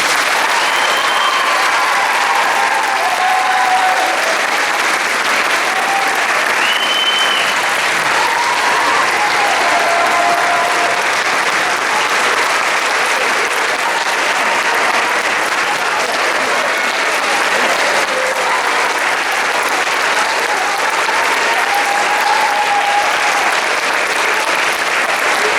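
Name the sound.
audience applause at graduation ceremony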